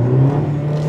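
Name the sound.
Hyundai Ioniq hybrid car driving in first gear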